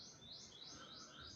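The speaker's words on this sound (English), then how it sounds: "Hear the birds in the background." Small birds chirp repeatedly in short rising tweets, faint and distant, outside a hotel room overlooking the ocean in Bohol at sunset.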